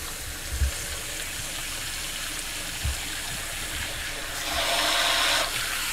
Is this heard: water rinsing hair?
yes